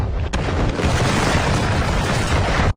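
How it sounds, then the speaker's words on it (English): A sudden loud boom followed by a sustained roaring blast of broadband noise that cuts off abruptly. "we hear a big explosion sound out of nowhere"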